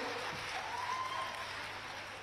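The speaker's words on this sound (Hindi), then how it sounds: "जोरदार तालियों की गड़गड़ाहट माननीय मुख्यमंत्री जी तक पहुंचे।" An audience at a live public event opening a new medical college claps for the Chief Minister, a dense, even wash of applause that is fairly faint and continuous throughout.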